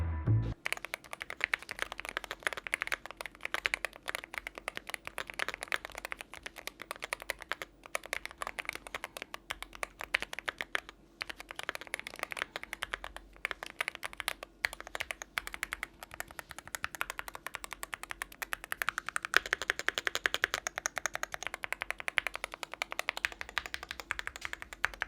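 Rapid continuous typing on a BOOG75 gaming keyboard, a dense stream of quiet clacky keystrokes with brief pauses, close up and alone without talk for about twenty-five seconds.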